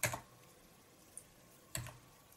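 A few isolated key presses on a computer keyboard while programming in assembly, two distinct clicking bursts with a faint tap between them in a quiet room.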